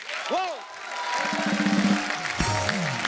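Audience applause welcomes actress Sonakshi Sinha onto a stage, a steady wash of clapping from a crowd with voices and a tonal sound mixed in over it.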